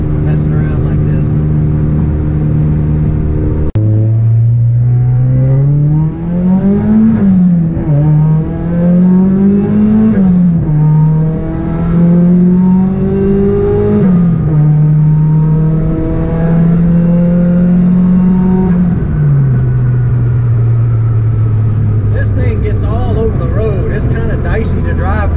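A car engine pulls hard under aggressive acceleration on sketchy tires, its revs climbing through several gear changes, loud and close, with someone talking over it.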